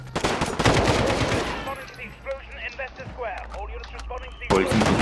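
Rapid automatic AK-47-style rifle fire in Call of Duty Modern Warfare 2019, loud bursts crackling in dense volleys at the start and again at the end, with chaotic game sounds and voices in between.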